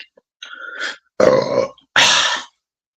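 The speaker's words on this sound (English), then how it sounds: "God damn, that's a lot of burps." Three loud, close burps in a row, each a drawn-out guttural belch separated by short silences, with no talking.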